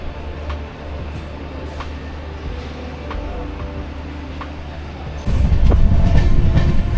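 Repalle to Secunderabad passenger train rolling along, a steady rumble with faint rail clicks that grows suddenly louder and heavier near the end, heard from on board.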